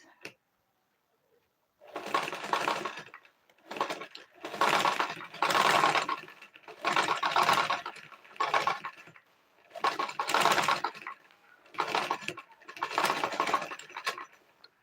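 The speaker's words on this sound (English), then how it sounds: "I'll go back to top stitch it" A sewing machine top-stitches a child's dress in about nine short motor bursts of a few seconds each, separated by brief quiet pauses, running close and clear.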